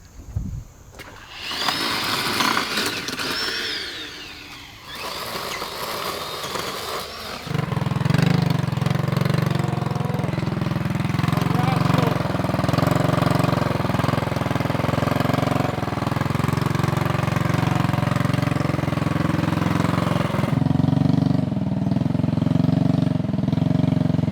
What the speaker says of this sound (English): So there's a little bit more chainsaw work that Ike's taking care of now.